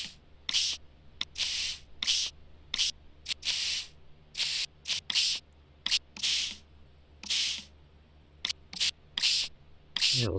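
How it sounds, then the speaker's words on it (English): Repeated bursts of spray from a tool cleaning fossils in the video game Dinosaur Fossil Hunter, a dozen or more short and long hisses in an irregular rhythm, close and loud over a steady low hum, with no talking. "Oh, and once again with the spray."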